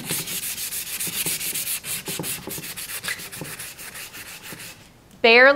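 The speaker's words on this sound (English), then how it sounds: "Barely sanding that with medium grit sandpaper, you get that natural wood" Steady scratchy strokes of medium grit sandpaper rub across chalk-painted wood in a quick repeated rhythm, close and fairly loud, ending with a brief high-pitched squeal.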